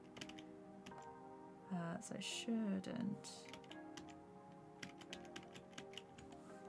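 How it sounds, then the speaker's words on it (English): Rapid clicking keystrokes on a computer keyboard, recorded close to a microphone sitting just above it, continuing steadily while a person speaks briefly over the tapping. "I'm trying not to like absolutely smash the keyboard when I press the buttons"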